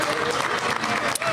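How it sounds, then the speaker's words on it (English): A short burst of audience applause in a community gathering honoring a volunteer resident advisory board, dense clapping from a room of people, brief and fairly loud. "Quick round of applause for the board"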